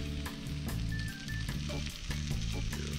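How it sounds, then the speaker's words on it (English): Chopped onion sizzles and fries steadily in a pan on a compact bike-camping stove, with repeated scraping and stirring strokes breaking through the continuous hiss, close and fairly loud. "Keep moving that onion around so it doesn't stick to the bottom, burn to the bottom"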